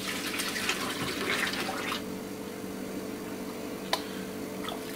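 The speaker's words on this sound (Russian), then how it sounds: "а я при помощи кружки начну заливать туда промывочную воду" Sparge water poured from a mug onto mash grain during home beer brewing, a soft splashing trickle for about two seconds, then quieter liquid sounds with a brief drip or knock near the end.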